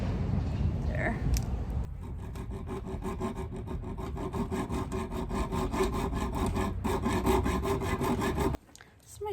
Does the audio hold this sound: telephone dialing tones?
no